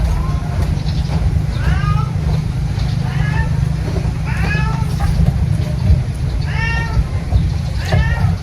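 Several cats meow repeatedly, the cries overlapping and coming every second or so above a constant low background rumble.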